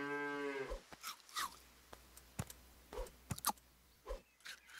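A cow in the video game Super Auto Pets gives a short cartoonish moo at the start, followed by sparse clicks and taps from the game interface, with no talking.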